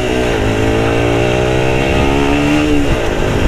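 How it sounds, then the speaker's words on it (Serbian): A 2007 Kymco Quannon 125 four-stroke motorcycle engine drones steadily and loudly while riding, pitch shifting slightly as it pulls, close and continuous with no talk. "Danas je test u Kimco Quanon 125, jedan od poželjnijih početničkih motora, četvorotaknih mašina."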